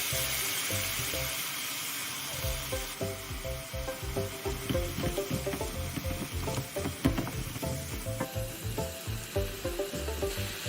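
Potatoes frying in a pan crackle loudly when seasoning sauce is poured over them, and the sizzle settles into a busy, bubbling spatter that stays close and fairly loud throughout, with no voices.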